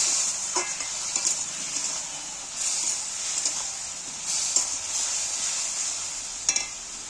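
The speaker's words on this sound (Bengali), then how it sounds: "এইবার ভালো করে কষিয়ে নেবে" Spice masala with Kashmiri red chilli frying in a pan, a continuous bright sizzle with occasional soft stirring scrapes and light clinks, close and steady throughout.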